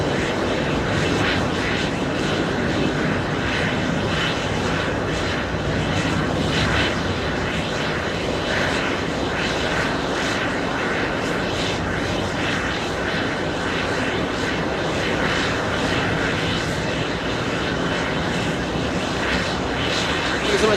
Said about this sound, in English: Jetblue 14, correction, 1849. That's an A320.